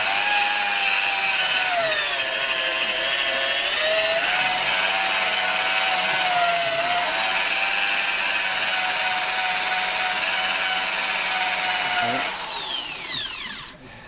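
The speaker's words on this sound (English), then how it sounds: "I'm probably better off polishing it with my little drills, really." A small battery-powered drill polishes the body of a Les Paul guitar in a workshop, running as a steady, loud, high whine for about twelve seconds before winding down, with nobody speaking.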